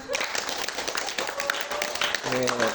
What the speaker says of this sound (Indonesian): Iya, kita tepuk tangan.